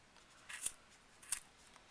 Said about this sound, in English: Insert your scissors into that center space. Just go ahead and cut.